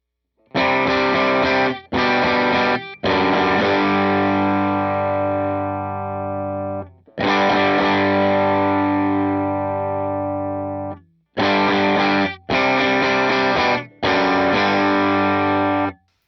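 An overdriven electric guitar runs through an HX Stomp dual amp setup, striking loud sustained chords that ring out and decay, separated by short silences, with no voices.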